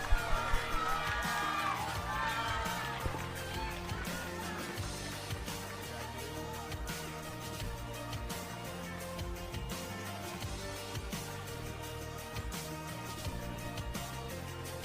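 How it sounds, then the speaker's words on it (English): An audience at a student recognition event applauds and cheers. Dense clapping mixes with whoops and yells, starting loud and easing into a steady, fainter roar. "Let's give a large round of applause for Pranavin Sundaralingam."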